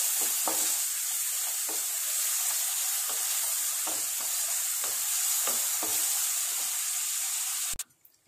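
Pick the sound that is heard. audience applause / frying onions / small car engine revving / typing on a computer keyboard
frying onions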